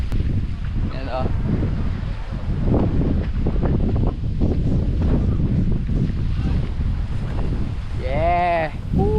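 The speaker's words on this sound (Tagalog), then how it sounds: "Lakas ng hangin." Strong wind on Twin Island in Nasugbu, Batangas, buffets the microphone in a constant loud roar, with people's voices and cheers heard through it.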